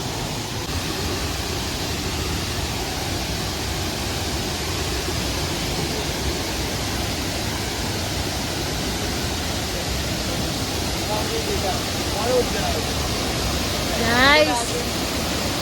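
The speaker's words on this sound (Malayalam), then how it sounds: "ഇതാണ് നമ്മൾ കാണാൻ വന്ന വാട്ടർഫോൾ" Steady, loud roar of a waterfall close by, a dense unbroken rush of falling water that fills the whole clip, with a brief faint whistle or call near the end.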